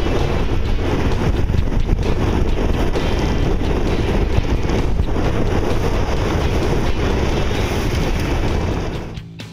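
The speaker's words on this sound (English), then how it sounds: "So we're going to motor the rest of the way in." Sailboat motoring in under engine power on a cold late-season day, with steady broadband wind buffeting the microphone and water noise throughout, loud and continuous until it drops off at the very end.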